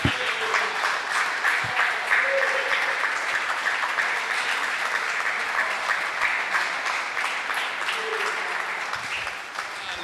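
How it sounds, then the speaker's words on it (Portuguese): Sustained applause from a church congregation fills the room, steady and moderately loud for the whole stretch, with no voices standing out. "Vamos aplaudir e glorificar o nome do nosso Deus"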